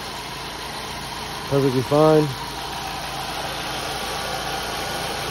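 A 2010 Ford Focus SE engine idles steadily after a valve cover and gasket replacement, a low continuous hum that someone briefly talks over midway.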